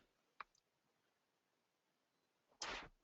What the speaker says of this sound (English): Clicking too fast.